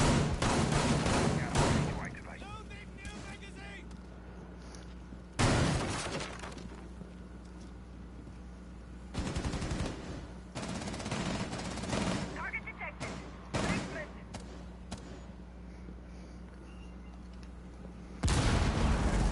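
Gunfire from an SMG-12 and a red-dot shotgun in a competitive tactical shooter match, with sharp bursts and single blasts scattered across the stretch, mixed with commentary and lulls of quieter game ambience.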